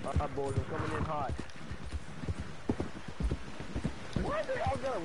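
Rhythmic horse hoofbeats in Red Dead Redemption 2 Online clip-clop steadily while a person talks over them, the voice near and the hooves fairly soft beneath.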